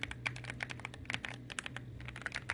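Typing on a Machenike KG98 keyboard with opaque keycaps, a quick, even patter of close keystrokes that clack and thock steadily without a break, with no voice over it.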